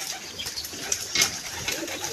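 Fancy pigeons coo softly at a rooftop loft on a windy day, with several low, rolling calls scattered close by amid light background noise.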